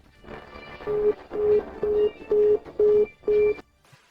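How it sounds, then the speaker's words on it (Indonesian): A phone call goes unanswered, heard as six evenly spaced electronic ringback tones, each about a third of a second, pulsing steadily over soft background music. A short faint click follows at the end. "Beraninya kamu, Qi Yingchun, tidak mengangkat telepon saya."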